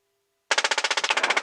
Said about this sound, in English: Left gun, stand by. Open fire with the target.